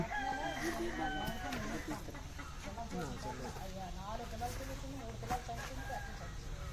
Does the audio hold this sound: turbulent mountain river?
no